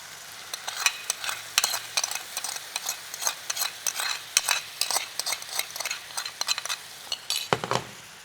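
Tofu, chili, garlic and sauce for Thai drunken noodles stir-fried in a hot wok, with steady scraping and clinking of a utensil over a low sizzle, repeated strokes throughout and no one speaking.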